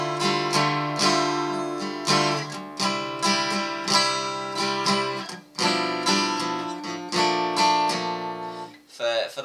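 Acoustic guitar in drop D tuning strummed through open chord shapes with no barre, played as Irish-style accompaniment; steady rhythmic strums ring out full and close, alone with no talking.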